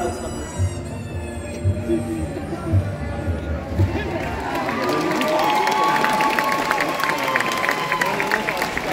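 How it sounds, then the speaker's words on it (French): An audience at a cosplay stage show at Japan Expo Paris claps and cheers, the applause swelling from scattered claps into a broad, sustained roar with crowd chatter. "On les applaudit bien fort"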